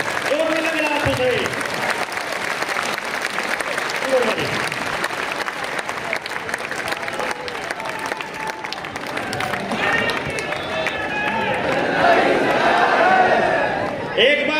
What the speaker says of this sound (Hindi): खड़े होकर के हाथ ऊपर उठा के जोरदार तालियां